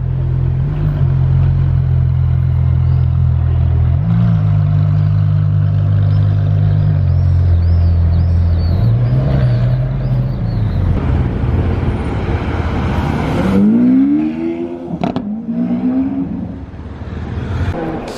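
Ferrari 599 GTO engine rumbles and revs in a series of low swells near Monaco during the Grand Prix, with a loud rising rev and whoosh near the end.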